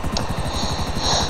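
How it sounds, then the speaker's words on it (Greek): Helicopter flying in GTA V, its rotor giving a steady, fast, close chopping thrum over a constant engine whine, with no talking. "Τώρα βλέπετε, είμαι με το ελικόπτερό μου εδώ πέρα"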